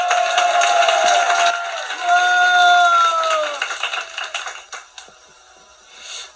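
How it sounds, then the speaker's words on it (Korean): At a Liberty Unification Party youth induction ceremony, an audience fills the hall with dense applause. A melodic tone plays over it, then the clapping thins out and fades. "큰 박수 부탁드리겠습니다."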